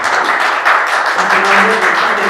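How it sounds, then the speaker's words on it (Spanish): Loud, close applause from an audience at a literary reading fills the space as a steady wash of clapping without any break. "Un aplauso."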